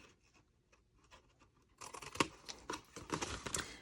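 Scissors cut through paper and card while a gift box is being made. Faint, sparse snips come first, followed by a louder run of crisp cutting strokes close by.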